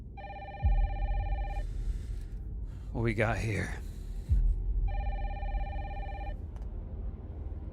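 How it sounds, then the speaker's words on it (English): A telephone rings in a trailer for the video game Resident Evil Requiem, two clear electronic ring bursts separated by a short pause in which a voice speaks. "Phone call?"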